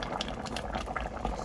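Braised cutlassfish with potatoes bubbling away in a pot as the broth reduces, a steady close simmer of soft popping bubbles, brief and continuous.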